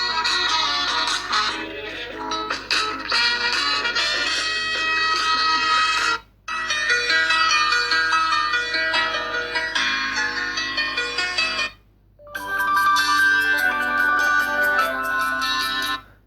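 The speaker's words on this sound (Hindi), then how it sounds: "तो कुछ रिंगटोन्स वगैरह चला के देखते हैं।" A Tecno Pouvoir 4 Pro phone plays a ringtone loudly through its dual stereo speakers at full volume, a bright, melodic tune, cut by two short silences as it restarts with a different melody.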